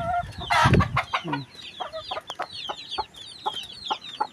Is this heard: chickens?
yes